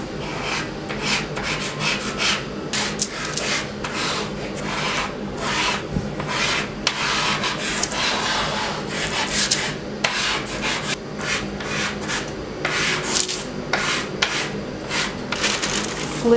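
A Conté crayon rubs steadily over paper to transfer a design for a relief print, making a continuous dry scratchy scraping with quick repeated strokes, close and fairly loud, with no voices.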